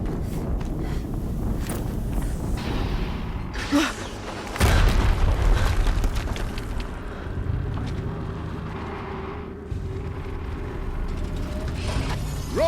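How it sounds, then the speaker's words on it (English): Explosions in the video game Horizon Zero Dawn, a deep booming blast around the middle that rumbles loudly before fading into wind-like ambience and mechanical clanks. "Another explosion."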